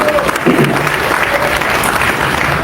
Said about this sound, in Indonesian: Boleh kasih tepuk tangan sekali lagi buat.